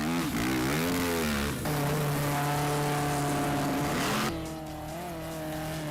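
A big V8 Corvette-powered buggy roars past during a desert rally, its engine note rising and falling through shifts before dropping as it moves away; loud and continuous with no talk.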